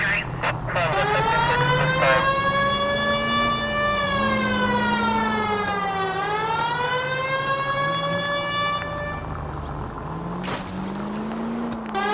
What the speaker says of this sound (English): It's against the rules to drive like this without a siren.